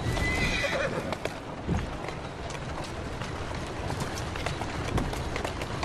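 Horses pulling a carriage in the video game Assassin's Creed Syndicate, steady clip-clop of running hooves with a neigh near the start, continuous and fairly close, no talk.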